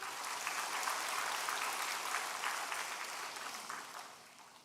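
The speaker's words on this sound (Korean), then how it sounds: "박수 한번 해주세요" A church congregation breaks into steady applause, a dense, even patter of many hands at moderate distance that gradually fades over nearly five seconds.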